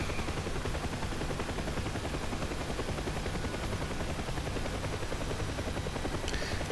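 Helicopters in the DCS combat flight simulator drone with a steady, dense rotor roar, joined by rapid bursts of gunfire that run continuously throughout.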